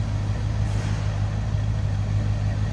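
A 1979 Lincoln Continental Mk V engine idles steadily, heard from behind the car as a continuous low rumble with a constant level throughout, no voices over it.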